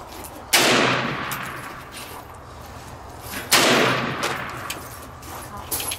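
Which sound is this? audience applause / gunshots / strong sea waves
gunshots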